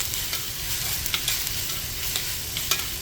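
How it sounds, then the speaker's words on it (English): Beef searing in about a tablespoon of hot oil in a Dutch oven for Texas chili, a steady dense sizzle with faint crackles throughout, close and alone with no talking. "Go ahead and sear off our meat."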